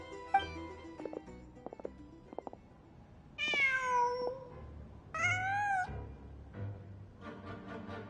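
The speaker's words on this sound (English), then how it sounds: "Just a cat." A cat in the game Genshin Impact gives two drawn-out meows, moderately loud and close, following some soft footsteps and clicks, with quiet game ambience under them.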